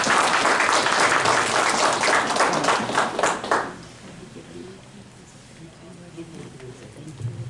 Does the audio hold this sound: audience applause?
yes